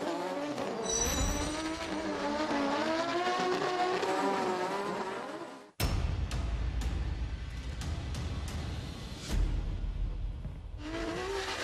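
A drift car races through the course at the FIA Intercontinental Drifting Cup, its engine revving high and loud. After a sharp cut the engine roars on, with tire noise and rumble, and it rises again near the end.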